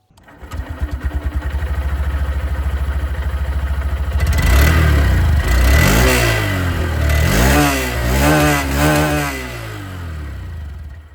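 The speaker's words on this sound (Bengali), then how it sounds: "কিন্তু তার আগে আপনাদেরকে আমি এখানে এক্সস্ট সাউন্ডটা শুনিয়ে দেবো।" A 2026 Honda Shine 125 Limited Edition motorcycle with a chrome muffler cover idles steadily, then its exhaust is revved loudly several times in close, rising and falling bursts.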